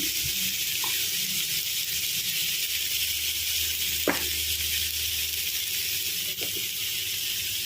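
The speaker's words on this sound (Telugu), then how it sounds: "మనకి చక్కగా ఫ్రై అవ్వాలంటే తోటకూర ఫస్ట్ ఐలో పెట్టుకోవాలి ఐలో పెట్టుకొని ఇలా వేయించుకోవాలి" Amaranth leaves frying in a hot pan with turmeric, giving a steady, continuous sizzle throughout with a couple of faint clinks of stirring.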